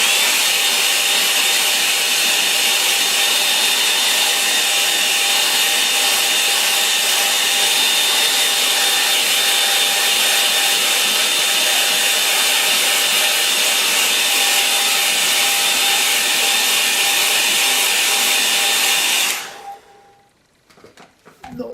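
A hair dryer blows steadily and loudly over a watercolour painting of a rocky stream with fishing figures, a continuous whooshing roar with a faint whine that runs for most of the stretch, then cuts off abruptly into near silence.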